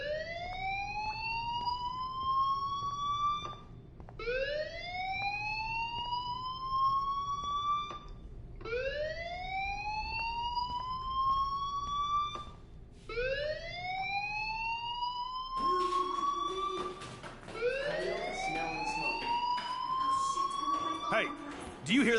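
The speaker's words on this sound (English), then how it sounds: "Hey, do you hear that fire alarm?" A school fire alarm in Life Is Strange wails in repeated rising sweeps, each lasting about four seconds with short gaps, loud and steady, with a voice talking over the later cycles.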